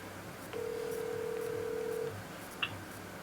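A telephone call placed on speakerphone produces a single steady, faint ring or dial tone lasting about a second and a half, followed by a brief higher electronic blip, with quiet room noise behind.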